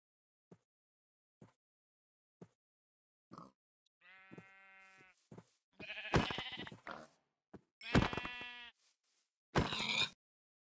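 Minecraft sheep bleat in a string of loud, wavering cries, spaced a second or so apart and heard alone, after a few short faint clicks at the start.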